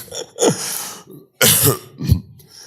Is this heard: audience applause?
no